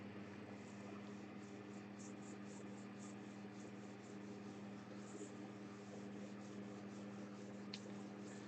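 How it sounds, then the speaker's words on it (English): Electric fan running in a hot office, a faint, steady whooshing hum with a low tonal drone, continuous and unchanging throughout. "Sorry for the fan noise."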